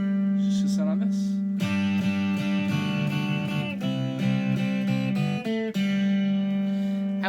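Rock guitar playing the rhythm part of a piece, a steady sustained low note against shifting two-note patterns picked in an even rhythm, clear and close, with no voice over it.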